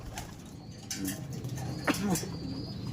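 Racing pigeons cooing in a loft, several soft low coos from nearby birds over a steady background murmur, with no clear talking.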